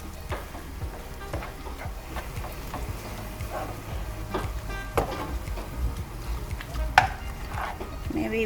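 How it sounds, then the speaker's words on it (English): Mushroom soy sauce being stirred into a sizzling pisupo (canned corned beef) stir fry in a pan, with a steady frying hiss under repeated scraping strokes and a few sharper clinks, close and moderately loud. "our last is some mushroom soy sauce. Okay, so stir that all in."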